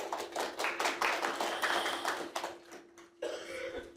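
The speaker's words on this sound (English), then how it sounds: "The clapping for ourselves." An audience at a live talk claps in a brief, uneven burst of hands, fairly close, fading out before a short pause and a fresh wash of clapping near the end.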